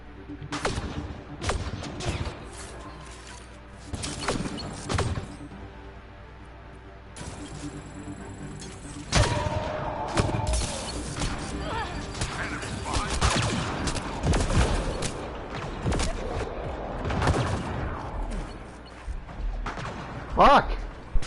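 Sniper rifle fire in the sci-fi shooter Mass Effect Andromeda, with repeated sharp shots and impacts during a firefight, mixed with other combat noise and someone talking over it.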